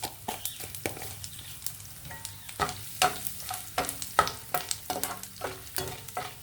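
Asafoetida tempering sizzles in a hot pan for lentils with fenugreek seeds, giving crackling frying noise broken by frequent sharp clinks of a spoon stirring, steady and close.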